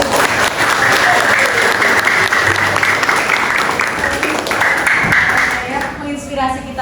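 Audience applauding steadily at a school or teachers' event in Indonesia, a dense, loud wash of clapping that holds throughout and thins slightly near the end.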